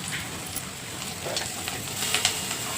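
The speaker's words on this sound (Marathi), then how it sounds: "कांदा लालसर होईपर्यंत भाजायचा" Chopped onion fries in a pan with mustard seeds and cumin, a steady close sizzle with occasional light stirring scrapes and small pops throughout.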